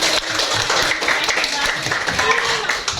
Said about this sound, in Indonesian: Tepuk tangan dulu untuk peragaan dari kelompok.